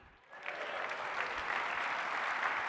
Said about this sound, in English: for those of you in the back that's not clapping, wake up